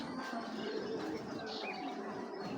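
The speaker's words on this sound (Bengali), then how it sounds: "টপ কোয়ালিটি একটা কবুতর" Soft, low cooing from a white pigeon blends into a constant background hiss, faint and somewhat distant.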